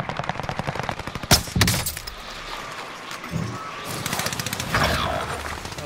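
A sentry gun firing in a first-person shooter game, rapid bursts of machine-gun fire with a few heavier shots between them, loud and close with no talk.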